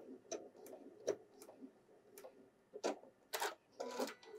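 A Janome computerized sewing machine stitches in short bursts and runs its automatic thread cutter, making soft ticking clatters and brief whirring mechanical runs, quiet and close.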